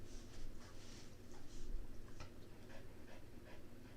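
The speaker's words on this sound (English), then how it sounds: "Are you tired, puppy? From walking around in circles? Breathing all heavy." A tired puppy panting heavily, quick rhythmic breaths, faint and close against a low steady background hum, with no talking.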